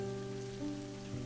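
Heavy rain shower hissing steadily in a continuous wash, heard alongside sustained low tonal drones, moderately quiet with no voices.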